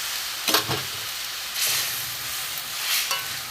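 Milk poured into a hot pan for a duck egg korma hisses and sizzles in a few bursts of steamy frying, close and moderately loud, with no talk over it.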